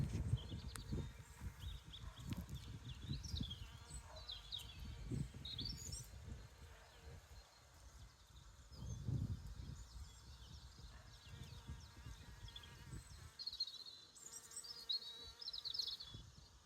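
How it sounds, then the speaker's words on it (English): Bees buzz around spring blossom in a faint, continuous outdoor drone that rises and falls, with small birds chirping intermittently in the background. "Oh, the bees on this."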